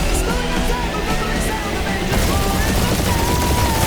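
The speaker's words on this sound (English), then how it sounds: "Taking fire!" Rapid gunfire in a spaceship dogfight from the video game Guardians of the Galaxy, a dense, continuous loud barrage of shots and blasts with game effects, intensifying partway through.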